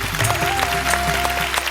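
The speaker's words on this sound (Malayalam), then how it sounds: "അവർക്കും ഒരു കയ്യടി." A studio audience on a televised singing show applauds in a dense, continuous patter, layered over music playing at the same time.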